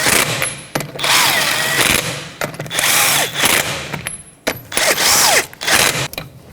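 Power impact tool running on wheel lug nuts of a 2006-12 Toyota RAV4 during a rear brake job, several loud whirring bursts with short pauses between them, close up and with no talk.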